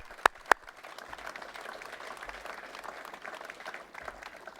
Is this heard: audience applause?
yes